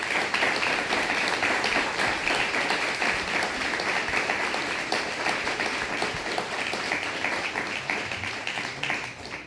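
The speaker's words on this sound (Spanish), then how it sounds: "Denle un fuerte aplauso." A church congregation breaks into loud, sustained applause, dense clapping that holds steady and tapers slightly at the end.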